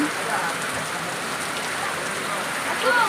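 Steady rain pouring down in a continuous hiss, with faint voices briefly audible beneath it.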